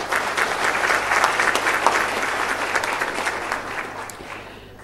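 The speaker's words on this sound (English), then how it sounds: "Please give him another round of applause" Sustained, dense applause from a large audience at a university graduation ceremony, steady clapping that slowly tapers off near the end.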